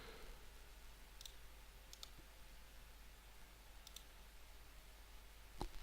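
A few quiet, sharp mouse clicks come at irregular intervals during a video game, the last slightly louder, over a faint hum with no talking.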